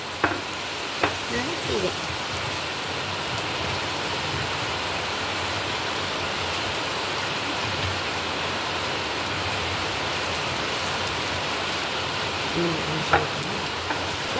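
Dosa batter hisses on a hot stone griddle, a dense, even sizzle lasting throughout, with a few brief words spoken at the start.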